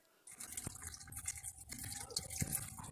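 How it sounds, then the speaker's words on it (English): Water leaking through a ceiling drips and splashes indoors in an apartment in irregular close taps, with a soft continuous trickle underneath. "It's raining inside the apartment."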